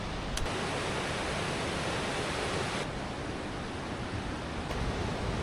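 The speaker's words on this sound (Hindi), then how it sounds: "कलकल करती और शोर मचाती मद्महेश्वर गंगा की आवाज़ एक संगीत की तरह मन को सुकून दे रही थी।" The Madhyamaheshwar Ganga, a mountain river, rushes and gurgles in a dense, continuous roar, close and steady throughout with no voices.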